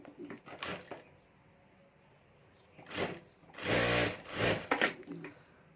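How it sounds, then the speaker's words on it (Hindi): Sewing machine stitching fabric for a handmade clutch bag. Close, loud bursts of rapid mechanical whirring come in several separate runs with quieter pauses between them. "यहाँ ऊपर सिलाई कर देनी है"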